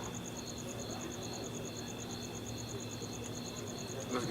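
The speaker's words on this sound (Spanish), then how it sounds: "Los grillos." Crickets chirp steadily in a rapid, even pulse throughout, with a constant low hum beneath and faint indistinct voices in the background.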